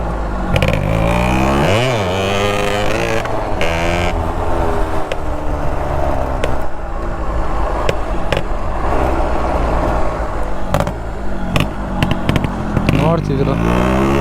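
Stock-condition Yamaha RX two-stroke motorcycle engine revving up and dropping back repeatedly, loud and close with sharp throttle blips, and a voice talking at times over it.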